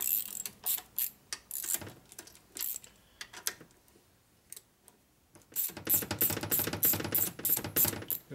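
Bolts being started and tightened on the engine case of a 1972 Harley-Davidson Sportster Ironhead, with sparse ratcheting clicks first, then a denser, louder stretch of mechanical clicking, close by and without talking.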